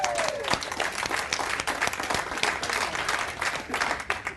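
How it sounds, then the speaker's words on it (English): A crowd bursts into steady, dense applause, many hands clapping together at an even loudness, with some faint voices mixed in. "Give him another round of applause."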